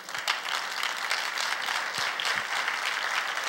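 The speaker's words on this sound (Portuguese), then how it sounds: "Então dá um aplauso ao Senhor." Church congregation applauding together, a dense, steady wash of many hands clapping at moderate distance, filling the whole stretch without any voices on top.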